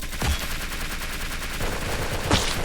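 Rapid gunfire in the Roblox game Unit 1968, set in the Vietnam War, crackles loud and continuous with a few sharper shot bursts standing out.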